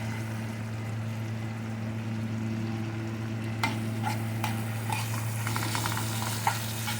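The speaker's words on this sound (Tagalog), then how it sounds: "haluin na ng mabuti" Onions are stirred in a pan while cooking kisna, with a steady frying hiss over a constant low hum, joined midway by scraping utensil strokes against the pan.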